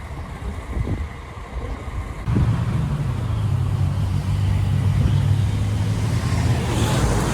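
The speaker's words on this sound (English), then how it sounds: "Busy with traffic." Steady road traffic rumbles through Aberdeen city, a continuous low drone of passing cars that swells and thickens partway through, with wind noise over it and no voices.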